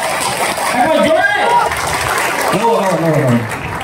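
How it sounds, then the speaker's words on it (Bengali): An audience at an NFT ambassador meeting in a Kolkata banquet hall clapping loudly in a dense, continuous burst, while a voice talks over the applause. "একবার জোরে হাততালি, যত জোরে আছে"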